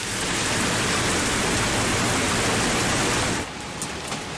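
Dense, loud rain pours down in a constant roar, then abruptly thins to a softer patter near the end.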